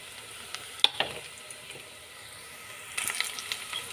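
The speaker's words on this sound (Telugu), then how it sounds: "ఉల్లిగడ్డ వేగుతుందండి. ఇప్పుడు మనము అల్లం వెల్లిగడ్డ పేస్ట్ కూడా వేసుకుందాం." Onion frying with ginger garlic paste gives a soft, low sizzle with a few sharp clicks of stirring, then a slightly livelier crackle toward the end.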